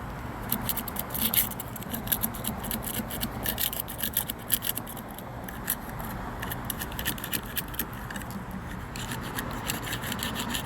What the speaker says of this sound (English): Use my little scraper guy, cut off the excess material.